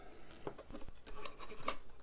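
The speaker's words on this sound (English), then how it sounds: "So you're going to want to get in there and you're going to kind of cut it." Scissors snip into a paper gable box embossed with a texture folder, cutting away near its closing flap. There are a few quiet, close clipping and crinkling sounds with short pauses between cuts.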